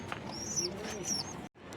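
Pigeons kept with their young chicks coo softly at close range, mixed with a few light chirps over a low background rustle. The sound briefly drops out near the end.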